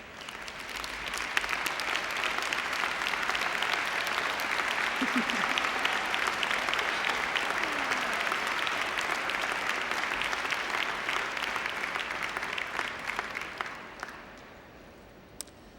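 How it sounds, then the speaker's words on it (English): Sustained applause from a large audience at a high school graduation ceremony as parents stand, dense steady clapping about fourteen seconds before fading out, with a few brief voices in the crowd. "Will the parents who are celebrating their final high school graduation please stand for a round of applause?"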